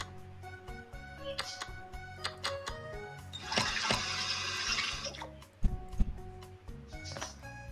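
Water poured into dough in a Bakery Simulation video game: a soft splashing, running-water pour swelling in the middle for a couple of seconds amid quieter clicks and small thuds, fairly faint overall.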